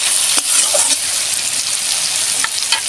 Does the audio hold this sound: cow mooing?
no